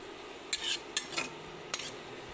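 Onions browning in a wok, stirred with a utensil: three short scraping clinks over a soft, steady sizzle, close up and quiet, with no voices.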